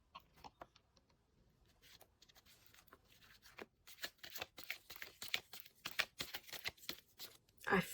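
A deck of tarot cards shuffled by hand during a love-prediction card reading: sparse soft flicks and snaps at first, building into denser, rapid riffling and slapping of cards, close-up and fairly quiet, with no talking.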